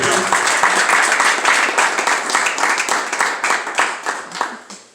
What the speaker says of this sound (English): So can you give the CO an applause?